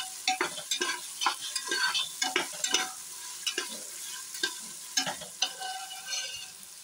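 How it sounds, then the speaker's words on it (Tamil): Masala for Virudhunagar chicken kulambu being stirred and sautéed in a hot pan, with a steady sizzle and repeated scraping strokes of a spatula, close and fairly loud, without any voices. "வதக்கணும். இது நல்லா வதங்கணும்."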